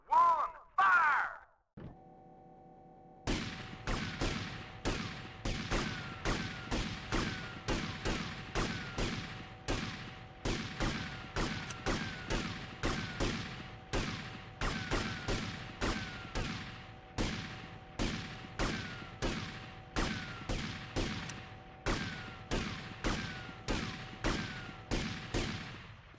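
Gunfire in the video game GTA Vice City, with roughly twenty evenly spaced shots ringing out about once a second, each with a short echoing tail, after a brief whistle-like sound and a pause.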